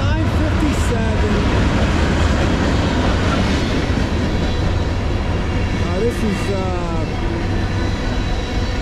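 A CSX M406 freight train hauling garbage-can containers rolls past on the Lehigh Line with a loud, continuous rumble and rail clatter, close by and steady, while someone speaks over it.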